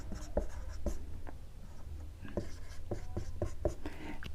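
Chalk or marker scratches across a classroom board in short strokes and taps, close and fairly quiet, forming a choppy rhythm of quick writing motions.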